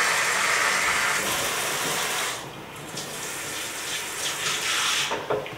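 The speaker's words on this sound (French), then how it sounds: "Donc on nettoie correctement sa jante et un petit coup de rinçage." Steady, loud gush of rinse water spraying over the wheel rim of a small trailer's spare wheel, a continuous broadband rush that eases briefly midway, with no voices.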